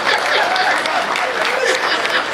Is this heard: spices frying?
no